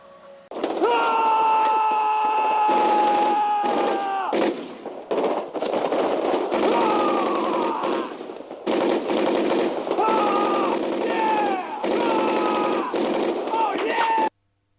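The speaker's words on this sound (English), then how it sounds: "I'm just shooting all over the damn place" Rapid gunfire in the zombie shooter Left 4 Dead, long sustained bursts of automatic shots with brief pauses, loud and close, mixed with a tonal game sound layer.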